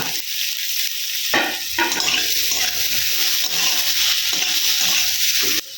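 Chopped chili and boiled ginger sauté in a pan, a steady loud sizzle with stirring and scraping running continuously, close up.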